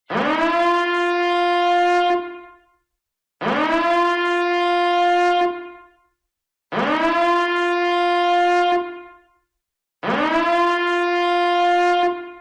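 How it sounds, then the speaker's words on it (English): A toxic environment alert siren wails in four long bursts, each rising and holding a steady tone for about two seconds before cutting off, with short silences between. "If you are expecting in such an event to hear an alert sound like this"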